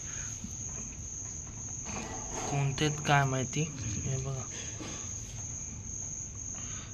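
Crickets and other insects chirp in a steady, high continuous drone at night during the first monsoon rain in Konkan, while a person talks briefly over it in the middle.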